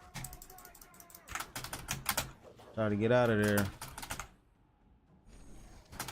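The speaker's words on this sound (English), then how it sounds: "I feel like I done beat my motherfucking keyboard to death." Computer keyboard hammered hard during a PvP fighting game, rapid clusters of loud clacking keystrokes in bursts, with a shouted voice breaking in midway and quieter gaps between flurries.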